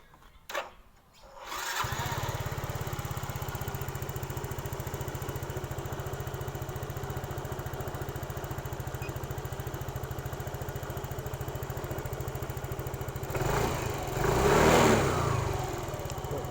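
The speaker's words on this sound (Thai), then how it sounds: "ลองลองมาฟังเสียงรถกันดูนะครับว่าจะปกติหรือเปล่า" A small two-valve motor scooter engine idles steadily at close range after a repair, with a constant low throb, briefly revving louder near the end.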